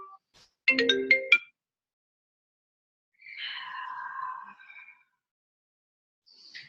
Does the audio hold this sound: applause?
no